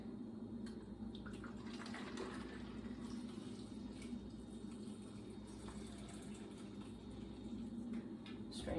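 Fresh milk pours steadily through a cheesecloth-lined strainer, making a quiet, continuous liquid trickle and gurgle that holds level for several seconds with no talking.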